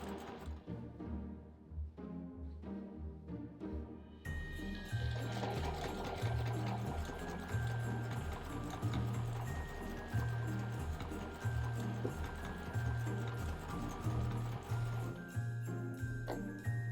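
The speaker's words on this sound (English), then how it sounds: "I really like to sew fast, so I always have to remember to slow down when I'm quilting" A sewing machine runs steadily while machine quilting a quilt, its fast rhythmic needle hum loud and close with a regular pulsing beat, plus faint light tinkling, no talk over it.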